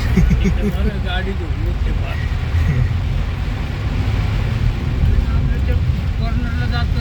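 Heavy monsoon rain and a swollen river rushing at Malshej Ghat, a loud, steady broadband roar of water and wind buffeting that runs unbroken throughout, with a voice faintly talking over it.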